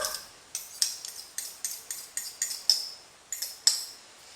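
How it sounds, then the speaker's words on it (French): Salted butter and mustard being mixed in a bowl for a Provençal roast leg of lamb, heard as a close run of light, rhythmic metallic clinks and scrapes from a utensil, with no speech. "je vais mélanger du beurre salé avec de la moutarde"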